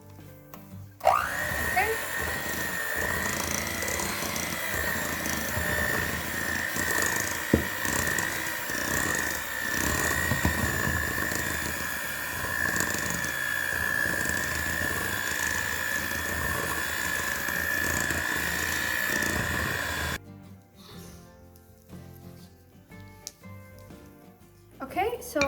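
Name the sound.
electric mixer mixing banana bread batter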